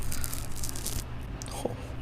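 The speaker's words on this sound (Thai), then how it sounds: "นี่คือเสียงปอกก็น่ากินนะด้วย" Close, moist peeling sounds with crisp rasping strokes, then a quieter stretch with a faint soft voice murmuring and a small tap.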